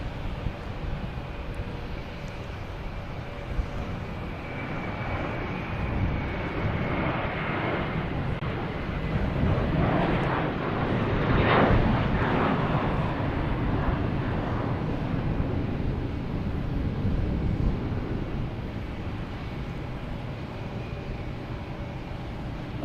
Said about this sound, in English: we have a JetBlue here heading to Fort Lauderdale, flight 69 and A321